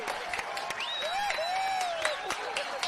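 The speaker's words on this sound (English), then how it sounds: "How about a big round of applause for him, David Murphy's Clear Choice Contiki." Scattered clapping from a crowd at a campdraft championship final, with a whistle-like rising tone sweeping over the applause and short sharp claps cutting through.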